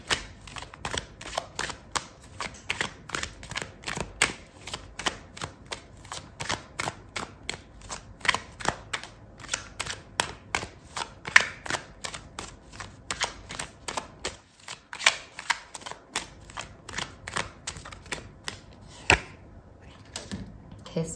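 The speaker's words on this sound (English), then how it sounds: "I'm going to pull out another card for you" Tarot cards being shuffled and pulled for a love reading, a long run of quick crisp card snaps and flicks in irregular bursts, close and fairly faint, with a few short pauses.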